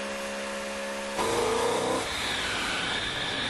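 BMW M engine running in a dynamometer test chamber, a steady mechanical hum that jumps to a louder, harsher roar partway through, then settles into a sustained drone.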